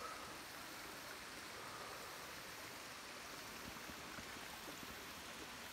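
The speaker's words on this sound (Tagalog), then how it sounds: "Tubig na to galing to dun sa falls" Soft, continuous rushing of a stream flowing from a waterfall, an even hiss that stays steady and fairly quiet with no voices.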